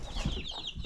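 Hens clucking softly nearby during the start of incubating a batch of 73 chicken eggs, a few short low clucks and chirrups with no speech.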